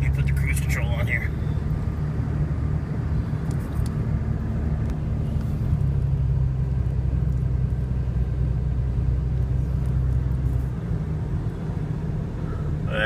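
Steady low engine rumble and road hum from a vehicle cruising at constant speed on cruise control, loud and continuous throughout, with a few faint higher noises early on.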